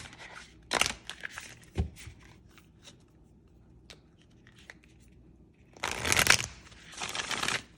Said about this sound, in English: You got a nice bridge on that one with the shuffling.